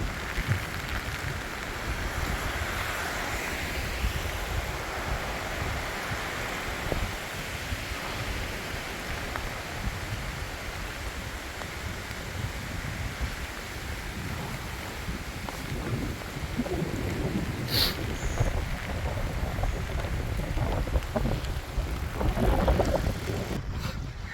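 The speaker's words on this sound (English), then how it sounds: "that wind is so massive!" Strong, gusty coastal wind on a southern Japanese island roars and buffets the microphone steadily for the whole stretch, a dense broadband rush that swells louder near the end, with no talk over it.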